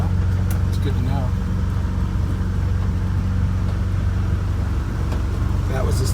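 A vintage Scenicruiser bus climbing a steep hill, its engine holding a loud, steady low rumble from inside the cabin while people talk over it.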